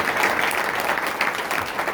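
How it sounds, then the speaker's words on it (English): Convention attendees give the volunteers a quick, steady round of applause, many hands clapping densely and evenly at close range. "give them a round of applause real quick"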